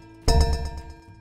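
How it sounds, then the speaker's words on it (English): In a speed-of-sound simulation, a metal ball strikes a metal rod once with a sharp clank that rings out in a brief, decaying metallic tone, heard alone. "This will make the ball hit the metal rod and make a sound like this."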